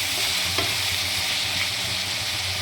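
Mutton curry with cucumber being stirred in a hot pan, a close, continuous sizzle with a low hum beneath and one soft scrape of the spoon.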